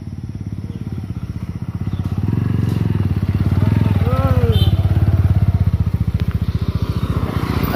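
A motorcycle carrying a family with a small boy seated in front rides along a road, its engine a steady close rumble that swells midway, with people talking over it and wind buffeting the microphone.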